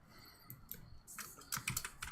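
Keys clatter on a computer keyboard in uneven bursts, soft at first and then a quicker, louder flurry of close taps, with no voice present.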